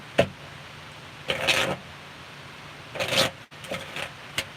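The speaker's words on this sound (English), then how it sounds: "One more shuffle for Leo and all those who love Leo." Tarot cards being shuffled by hand in a quiet room: several short riffling bursts separated by pauses, close and fairly soft, with a small tap at the start.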